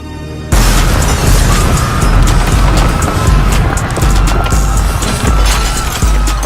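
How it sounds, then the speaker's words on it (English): A hundred fireworks go off at once against a medieval castle in a LEGO battle simulation game, a loud continuous barrage of booms and crackling bursts that runs for several seconds after a sudden onset. "we're going to attack the medieval castle with 100 fireworks that will go off all at"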